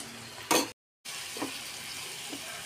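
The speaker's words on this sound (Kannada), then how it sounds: "ನೋಡಿ ಚೆನ್ನಾಗಿ ಫ್ರೈ ಆಗ್ತೈತೆ" Grated carrot and beetroot frying in coconut oil, giving a soft, steady close sizzle with one brief louder burst and a short gap of silence.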